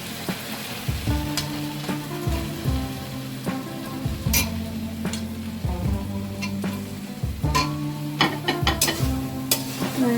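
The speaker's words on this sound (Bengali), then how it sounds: "আমি 3-4 মিনিট মতো ভালো করে এটা কষিয়ে নিচ্ছি। এরপর আমি দিয়ে দেবো যে বক্স করে কেটে রেখেছিলাম পেঁয়াজগুলো আর ক্যাপসিকামটা।" Diced onions and capsicum fry in a hot pan while being stirred, a near, steady sizzle broken by repeated scraping and clattering strokes of the spoon, with no voices.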